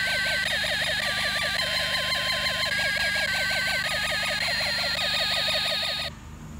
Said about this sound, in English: you hear a police car siren